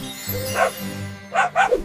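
An animated dog in a children's alphabet cartoon gives a few short barks near the end, preceded by a softer yip, over a faint musical background.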